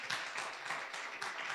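A church congregation applauds, a brief burst of dense, steady clapping from many hands filling the room at a moderate distance.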